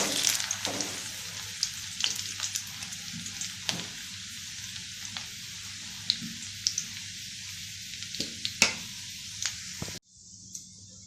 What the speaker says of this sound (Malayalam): ഒരു ചെറിയ കഷ്ണം ഇഞ്ചി നീളത്തിന് ചെറുതായിട്ട് അരിഞ്ഞത്, നല്ലൊന്ന് ബ്രൗൺ കളറാകട്ടെ.